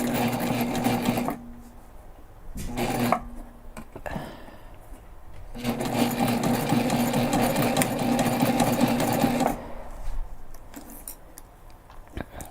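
A sewing machine stitches a backpack in several bursts of steady, close mechanical whirring, pausing between runs as the fabric is repositioned.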